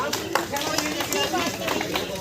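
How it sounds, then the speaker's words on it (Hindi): Children clapping for a classmate at a World Environment Day school gathering: a steady patter of many hands, close and fairly loud, mixed with crowd babble and voices talking. "देखो ताली बजाओ इनकी"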